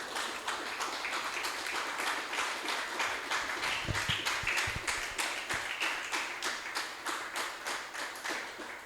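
A church congregation claps together in steady rhythmic unison, a fairly quiet, evenly spaced beat of many hands that carries on throughout without talk.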